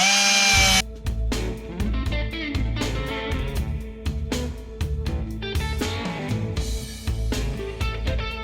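Power tool cutting the metal roof insert panel of a 1934 Ford Coupe, a loud steady grinding whine running for several seconds with repeated bursts and pauses as the blade bites the sheet steel.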